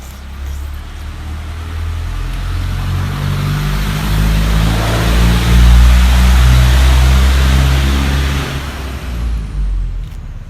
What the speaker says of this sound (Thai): ขอโทษขอภัยเสียงรถพี่น้อง